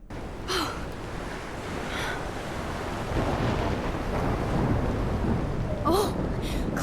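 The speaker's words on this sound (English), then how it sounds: "Okay, the storm still happens." Steady rain and rumbling thunder fill a storm scene in the video game Life is Strange, a continuous wash of noise with a few short vocal gasps over it.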